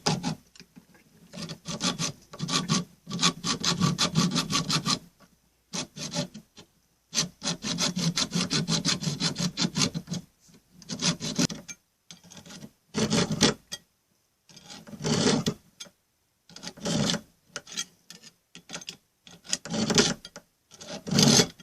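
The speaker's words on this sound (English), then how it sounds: "the extension needs to be cut off from the original E-flat key at its solder joint using a saw" A hand saw cuts through the solder joint of a flute's E-flat key extension in a workshop, with bursts of rapid back-and-forth rasping strokes separated by short pauses, close and fairly loud.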